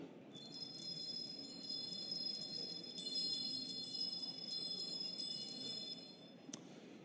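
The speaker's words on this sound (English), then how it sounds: "here is an unprocessed bell tree" An unprocessed bell tree shimmers with a steady cascade of bright, high metallic chimes ringing on for several seconds over a soft low rumble, ending with a single sharp strike.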